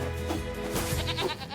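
A sheep in the video game Nier Replicant gives a short, nasal bleat, close and clear, lasting about a second over faint game ambience.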